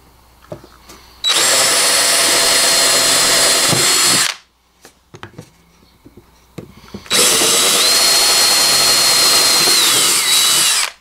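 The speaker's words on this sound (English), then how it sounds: "We'll pre-drill our holes." A power drill whines loudly in two long bursts while pre-drilling holes for a screen door in a camper van, each lasting a few seconds, with a quiet pause and small clicks in between.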